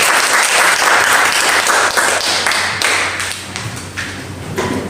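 Loud, dense applause from a large congregation at a worship service in a Jakarta apartment fills the room, continuing steadily and tapering slightly toward the end.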